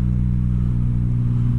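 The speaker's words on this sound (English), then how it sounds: "I feel it vibrating because of the droning of the exhaust" A Honda Goldwing motorcycle's exhaust drones low and steady while the bike cruises in fourth gear, a loud, even rumble heard up close with no pauses.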